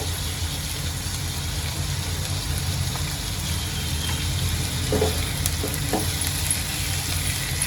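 Tomatoes cooking in butter with salt over a low gas flame, giving a continuous broad sizzle that stays steady and fairly loud throughout, with a few faint clicks near the end and no voices.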